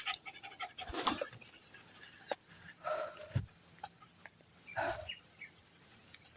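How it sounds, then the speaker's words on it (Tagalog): Dogs pant and scuffle nearby with occasional bumps and short yips, insects and distant birds faintly in the background. "Ito talaga itong dalawang aso. Naglalaro pa."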